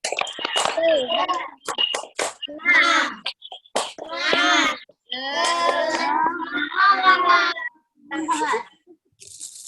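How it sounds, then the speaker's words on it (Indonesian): A 'tepuk semangat' rhythmic clapping chant in a class, with a voice chanting in short bursts punctuated by sharp handclaps in a patterned rhythm, close and clear with brief pauses between phrases. "mari kita tepuk semangat dulu"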